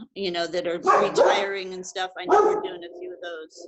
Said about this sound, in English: So sorry about my dog.